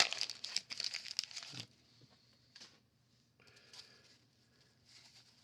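Crinkly wrapper of a vintage baseball card pack being torn open, a burst of loud crackling for under two seconds, then quieter rustles and a soft shuffle of cards close up.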